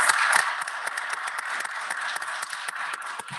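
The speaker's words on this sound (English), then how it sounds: "a round of applause" An audience applauds Chief Morgan at a county board of commissioners meeting, a steady round of many hands clapping at moderate loudness, with no talking over it.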